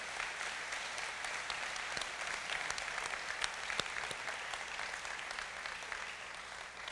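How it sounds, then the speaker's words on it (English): A large audience at the Choctaw Nation State of the Nation gathering applauds its tribal council, a dense, steady wash of clapping that holds at an even level without a break. "let's give our council a big round of applause"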